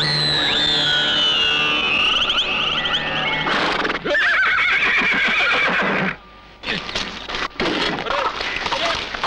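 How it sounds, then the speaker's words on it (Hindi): A mare neighs in a long loud whinny, then gallops with rapid pounding hooves, clattering and cracking noises, and a brief pause before the hoofbeats resume in a dramatic film climax scene. "क्यों भाई करजू, क्या कहा था मैंने, भाग गई ना तेरी घोड़ी"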